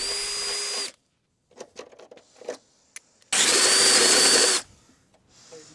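A power drill with a step-up bit bores a hole in metal while installing Metalcloak rocker rails on a Jeep Gladiator, in two loud, close, whining bursts with clicks and handling noises between them.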